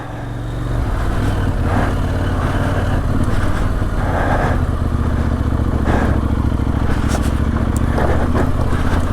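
A heavy CF Moto 800MT adventure motorcycle rides a narrow off-road single trail, its engine droning steadily and close throughout with a low throbbing note, faint rattles and clatter layered over the continuous rumble.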